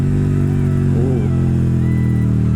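A KTM motorcycle engine drones loudly and steadily while being ridden, a continuous close rumble with a brief rise in pitch midway and no talking.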